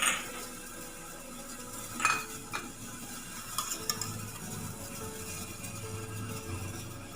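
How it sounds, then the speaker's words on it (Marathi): Oil in a pan is heated for tempering a Malvani-style clam curry while a utensil stirs and clinks against the pan. Faint sizzling runs throughout, and a few sharp metallic scrapes and taps sound up close. "आता आपण सर्व फोडणीला घालू"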